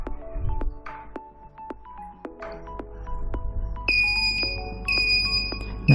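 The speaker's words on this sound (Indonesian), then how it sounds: "kemudian buzzer juga menyala" An electronic buzzer sounding in a classroom lesson demonstration, giving repeated sharp beeps and tones over a low hum, turning into a steady layered alarm-like whine in the last few seconds.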